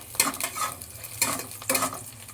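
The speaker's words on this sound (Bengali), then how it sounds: "একটু ভাজা ভাজা করে নিই পেঁয়াজটা" Onion fries in a pan under a low sizzle, broken by three sharp bursts of a utensil scraping and stirring against the metal, close by with no talk.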